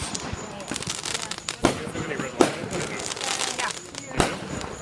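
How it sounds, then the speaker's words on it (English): Fourth of July fireworks in Texas, a few sharp bangs and crackles at middle distance over a steady outdoor hiss, with people talking in the background. "Fireworks, fireworks."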